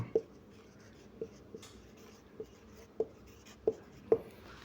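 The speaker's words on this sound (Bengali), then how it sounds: "আমি বাংলাটা লিখে দিচ্ছি" Someone writes by hand, probably with pen on paper, producing a handful of quiet, irregular taps and scratches spaced about a second apart in an otherwise calm room.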